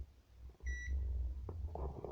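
A multimeter sounds a single short, clear electronic beep during a continuity test on a capacitor, followed by low handling rumble and faint clicks from the bench.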